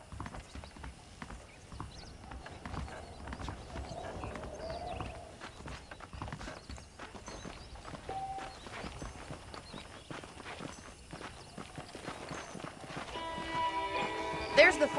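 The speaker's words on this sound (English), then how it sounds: "The horses are saddled up over here." Steady clip-clop of horse hooves walking in the video game Red Dead Redemption on Xbox One X, with a whinny late in the clip and people talking throughout.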